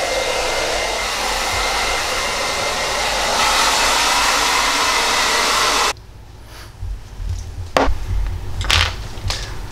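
A handheld blow dryer roars steadily at close range while excess hair is blown off after a barbershop taper fade haircut, then cuts off abruptly, leaving quieter rustling and handling noises.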